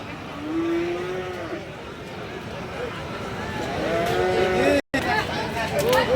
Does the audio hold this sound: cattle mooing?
yes